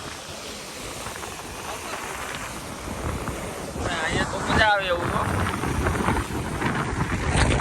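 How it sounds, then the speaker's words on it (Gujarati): Strong wind buffets the microphone over a steady rush of water at a filled dam, getting louder partway through, while people talk over it. "એક છે પવન બહુ આવે છે. તમને અવાજ ઓછો આવતો હોય છે કારણ કે પાણીનો બહુ અવાજ આવે છે"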